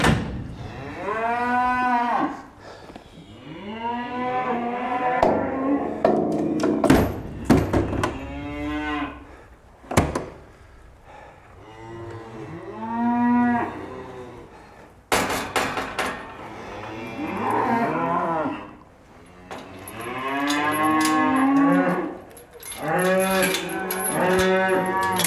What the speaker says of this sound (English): There's going to be quite a lot of mooing tonight, I think.